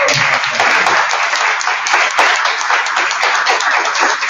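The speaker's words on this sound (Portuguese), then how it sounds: "Uma salva de palmas." A round of applause for a 90th birthday celebration, loud and close, with many hands clapping in a dense, sustained wash and a few crisp individual claps standing out.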